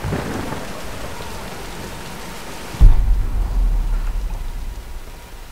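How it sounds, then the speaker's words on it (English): In the video game Tomb Raider, a thunderstorm brings steady rain hissing on surfaces, and midway a deep thunder crack breaks through, then rumbles on low and heavy beneath the continuing downpour. "Nah, let's wait out the storm."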